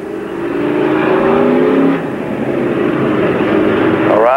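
Full-size enduro race cars roar around Riverside Park Speedway in a loud, continuous engine drone, with pitch shifting as cars pass and a rising rev near the end.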